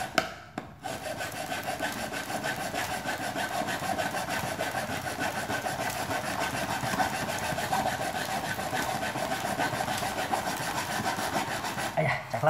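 A dull hand saw rasps steadily through the hard plastic casing of an LG fast charger in continuous back-and-forth strokes, close and fairly loud, with a short pause near the start.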